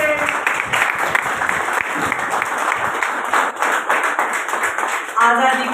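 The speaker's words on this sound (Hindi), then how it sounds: "जोरदार तालियों से" Loud, dense applause from an audience at an interview event honouring a local craft artist rolls on steadily, with crowd noise beneath it and a voice briefly speaking near the end.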